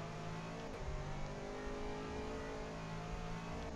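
A GT3 race car at Silverstone goes back on the throttle, its engine droning loud and steady from inside the car as it accelerates, with no talk over it.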